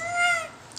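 A young child imitates a cat, giving a single drawn-out meow up close, followed by a faint short sound at the end.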